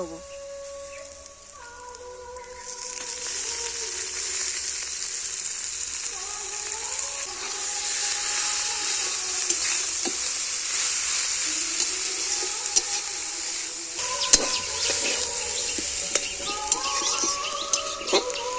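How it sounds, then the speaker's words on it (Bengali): Himche greens hitting hot oil with fried onion, garlic and chili, a steady hissing sizzle with scraping stirs and clinks of a spatula; birds chirp faintly in the background. "পেঁয়াজ রসুন লঙ্কা ভালো করে ভেজে নিয়েছি এবার আমি শাকটা দিয়ে"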